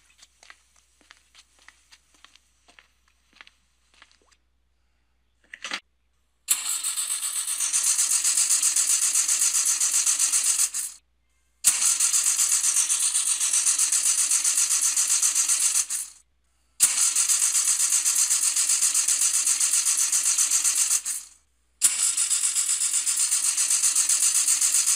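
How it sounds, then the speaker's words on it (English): A car engine cranks repeatedly without catching, in several long, loud grinding bursts separated by brief pauses, following a few quiet clicks. "Car won't start."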